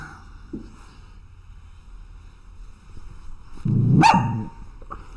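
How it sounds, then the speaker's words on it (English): A single dog barks sharply around the middle of the clip, fairly close and loud, with a faint distant yelp earlier and steady low background hum throughout; no one speaks. "We have the dog barking as always."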